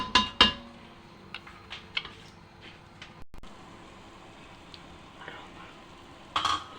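Salt being mixed into rice in a pot for doni biryani, heard as a few sharp metallic scrapes and clinks of a spoon against the pot, followed by quieter intermittent stirring taps in a calm kitchen.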